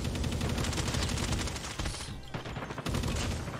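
Sustained rapid automatic gunfire from a weapon in Call of Duty Mobile, a dense continuous burst that briefly pauses near the middle before resuming, loud and close.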